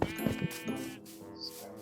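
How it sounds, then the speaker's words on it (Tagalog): A Minecraft goat bleats briefly a couple of times in quick succession, fairly close, with a faint background hum. "May kambing."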